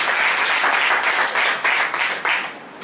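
A seminar audience breaks into sustained applause, many hands clapping densely and steadily for about three seconds before easing off slightly at the end, with no talk over it.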